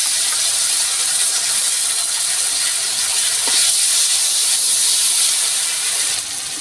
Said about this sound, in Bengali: আমি দিয়ে দিচ্ছি ধনে জিরে বাটা